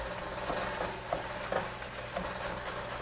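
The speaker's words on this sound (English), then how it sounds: "we're going to add that to our sausage" Breakfast sausage and half an onion frying in a pan, a steady close sizzle with a few soft stirring scrapes and no voices.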